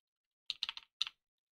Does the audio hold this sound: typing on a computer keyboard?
yes